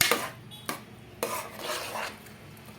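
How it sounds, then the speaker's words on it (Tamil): A spoon stirs sweet pongal mixed with sugar syrup in a metal pot, making a few distinct scraping strokes and clinks against the pot over a soft background, close and unaccompanied by speech. "கிண்டுறோம்."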